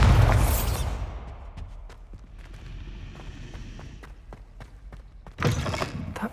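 A Bombarda blast spell fires in Hogwarts Legacy, a loud burst opening the moment, then a quieter stretch of clicks and small knocks before a second heavy boom lands near the end.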